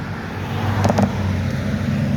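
Cars driving along Route 28, Blue Hill Ave, a major road into Boston from Milton, with a steady roadway rumble and one vehicle swishing past nearby midway through.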